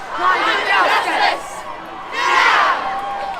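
More than a thousand climate change protesters chant loudly in unison as they march down George Street in Dunedin, the crowd's voices rising in two strong rhythmic waves with a short dip between them.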